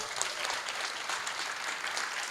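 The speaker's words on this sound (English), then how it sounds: "Let's give her a round of applause" Steady, fairly faint applause fills a convocation lecture hall as the audience claps for the lecturer's mother, an even wash of many hands with no voices.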